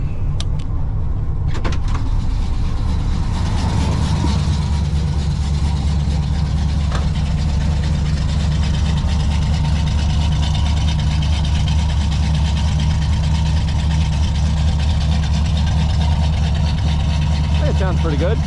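An LS-swapped 1994 Chevy Silverado engine idles cold with a leaking header, a loud, steady, close rumble that runs throughout with a voice talking over it.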